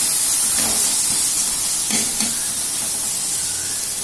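One tomato cooks in a hot pan, giving a steady close sizzling hiss with a few soft stirring knocks and no talking.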